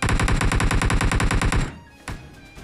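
Rapid automatic gunfire from a PUBG Mobile match, a loud, steady burst of regularly spaced shots lasting well over a second, then cutting off into quieter game ambience with one more sharp report.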